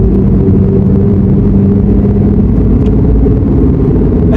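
Volkswagen Golf 7 GTI Nürbspec accelerating on the Nürburgring, heard from inside the cabin as a loud, steady, low engine drone and road rumble with no break.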